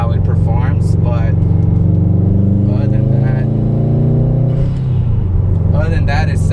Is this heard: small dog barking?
no